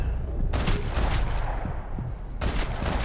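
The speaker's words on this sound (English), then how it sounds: "Shoot up the tires. Shoot up the men." Rapid gunfire in Max Payne 3, shooting at car tires: dense, loud bursts of shots fill the scene with a short lull in the middle before the firing picks up again.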